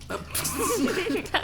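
A single quick sneeze from a player in a group game session, short and close amid background chatter and voices.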